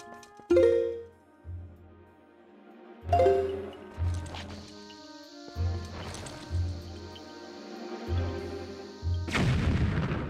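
Bombs from The Wind Waker video game explode in a string of deep, booming blasts, about seven in all, spaced unevenly and fairly loud, with bright crackles and a sustained in-game tone between them.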